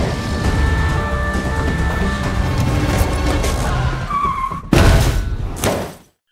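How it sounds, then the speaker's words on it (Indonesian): A movie car chase after a car bursts through a roadblock: a loud, steady engine roar with a high tire squeal near the end, then a sudden heavy crash and impact before the sound cuts out. "Lino sukses menerobos blokade jalan, lalu Areski dengan cepat mulai mengejarnya tanpa ragu."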